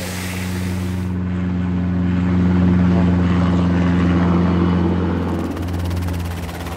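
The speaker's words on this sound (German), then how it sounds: "Die Helikopter stoßen jetzt zwischen den Bäumen bis auf den Boden herunter, um besonders träge Tiere anzutreiben." Helicopters flying low between trees to muster cattle in the Australian outback, a loud steady rotor and engine drone with throbbing low hum that swells and holds throughout.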